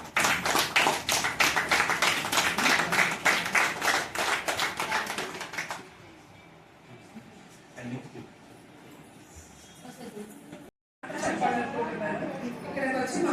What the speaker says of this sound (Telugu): క్లాప్స్ గట్టిగా.